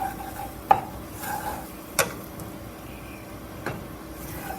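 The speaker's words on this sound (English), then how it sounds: "you want to make sure you kind of move it around so it doesn't burn" A roux simmers in a pan while being stirred to keep it from burning, heard as soft scraping with a few sharp clinks of the utensil against the pan, all at moderate volume with no talk.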